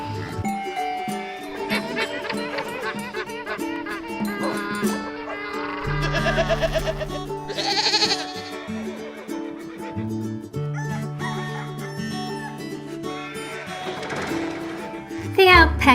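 Goats on a farm bleat and call over and over, close and fairly loud, mixed with barking and yipping and a voice that sounds like a person imitating the animals.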